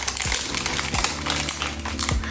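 Scissors snip through plastic vitamin packaging in a series of quick, close cuts with crinkling plastic between the snips.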